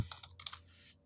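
A short, quiet run of a few keystrokes on a computer keyboard, soft close clicks that fade within a second.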